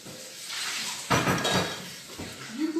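Dishes, pots and cutlery clink and clatter in a home kitchen sink, with a steady wash of running water and a few louder knocks in the middle, recorded close and with no talking.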